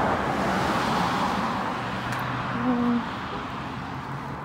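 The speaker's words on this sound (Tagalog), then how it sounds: "Maraming sasakyan." Steady road traffic on a busy street in cold winter weather in Canada, a continuous loud roar of several cars passing close by, with a low engine hum swelling and fading as vehicles go past.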